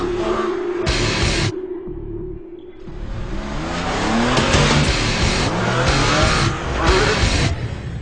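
A Porsche 911 997 GT3 RS Generation 2 sports car drives past, loud and close, its engine and tyre roar swelling and fading over several seconds with short bursts of added intensity.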